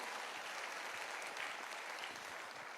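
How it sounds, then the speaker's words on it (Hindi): A crowd at an event in Haryana claps together in sustained, even applause, a thick, continuous patter of many hands lasting nearly three seconds without a voice breaking through. "तो एक बारी संजीव सर के लिए भी सर दिल से सारे के सारे लोग तालियां बजाएंगे।"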